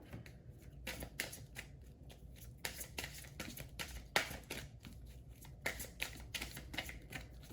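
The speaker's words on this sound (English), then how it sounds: "I'm going to pull from the Indigo Angel cards and see what else wants to come through" Indigo Angel oracle cards are shuffled by hand in quiet, repeated riffling bursts, soft and close, with no talking.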